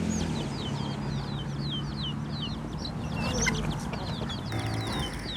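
Free-range hens on Kauai cluck and chatter steadily, with a few higher chirping bird calls layered over the flock's continuous background murmur.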